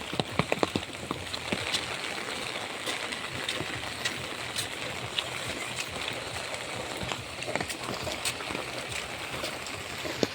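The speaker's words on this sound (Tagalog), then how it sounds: "Grabe ulan." Heavy rain pours steadily, a dense hiss of drops pattering on a surface with occasional sharper taps, close and continuous.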